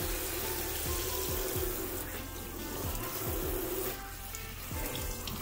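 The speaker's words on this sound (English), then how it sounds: "keep rinsing until all the dye is out and the water runs clear" Running tap water rinses dye out of a tie-dye shirt, a steady close splashing flow with soft spattering and brief dips in level, with no talk.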